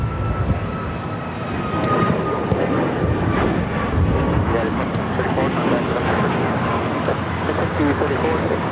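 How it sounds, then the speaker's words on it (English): A United Airlines Boeing 737 MAX 9 takes off at LAX, its jet engines a steady, loud roar with a broad rumble and a faint high whine throughout, while people talk over it. "This is United Airlines 2234 taking off to San Francisco on the MAX 9"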